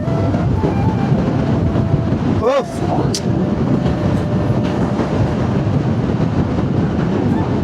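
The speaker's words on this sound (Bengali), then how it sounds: "সাইড দিয়ে যাচ্ছে আমাদের মালগাড়ি ট্রেন" A goods train rumbles past alongside a road during a long motorcycle ride, a steady rolling clatter with a horn-like tone and wind noise, faint voices briefly under it.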